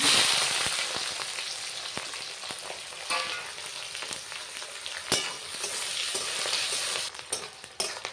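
Whole cardamom, cinnamon, cloves, shahi jeera, onion and chopped green chili fry in mustard oil, a steady close crackling sizzle with sharp pops and occasional spoon clinks against the pan, no voices.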